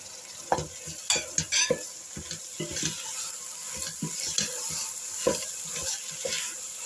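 Boiled wheat with red pepper flakes is stirred in a pot for a Turkish dövme soup, giving close scraping and clattering spoon strokes in an irregular rhythm over a faint steady sizzle, with no talking.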